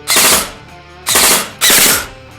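Short full-auto bursts from a G&G CM16 SRL airsoft rifle, three loud rapid volleys in quick succession with brief pauses between them, no talking.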